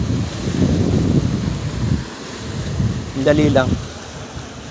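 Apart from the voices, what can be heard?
ocean waves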